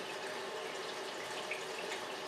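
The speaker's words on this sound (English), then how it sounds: "I'm going to start turning the cooling water onto my pre-condenser just a little bit" Cooling water running into the pre-condenser of a corn moonshine still, a steady soft hiss and trickle of flowing water, faint and continuous with no speech.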